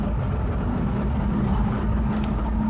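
A twin-turbo 1300 hp Lamborghini engine roars under acceleration with a loud, dense, continuous rumble that holds steady throughout, heard close.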